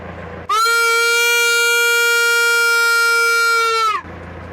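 A foghorn is blown aboard a sailboat, giving one loud, steady, harmonic-rich blast lasting about three and a half seconds before cutting off, with quiet surroundings on either side.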